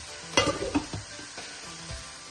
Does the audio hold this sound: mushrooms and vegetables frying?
yes